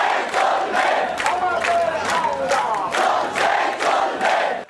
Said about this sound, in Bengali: এ সময় এক দফা দাবি আদায়ে নানামুখী স্লোগান দেন আন্দোলনকারীরা